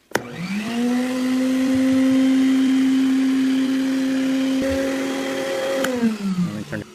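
A shop vacuum fitted with a brush head on its wand switches on with a click, spins up to a steady loud whine, runs evenly, then winds down and clicks off.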